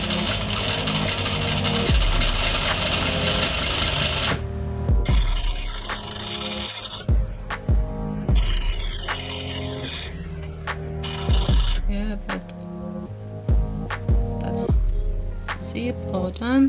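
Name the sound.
sewing machine topstitching trouser front fly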